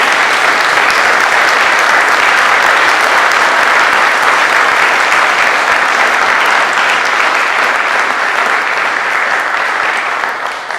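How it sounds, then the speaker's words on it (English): An audience at an Eagle Scout court of honor gives loud, sustained applause. The clapping is dense and continuous and fades slightly at the end. "these young men deserve a round of applause"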